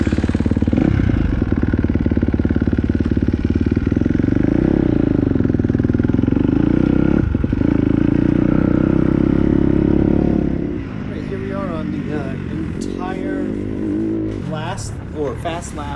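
A Kawasaki KX250 dirt bike rides laps on a motocross track during suspension testing, its engine buzzing loud and steady, then dropping back with revs rising and falling, while someone talks.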